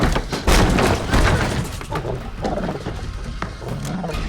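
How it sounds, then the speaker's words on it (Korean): A pack of wolves snarls and roars in a horror film scene, loud aggressive growls and bursts of throaty noise with heavy thumps, dense at first and easing slightly later. "그때 지친 그녀의 앞에 늑대 무리가 나타나고"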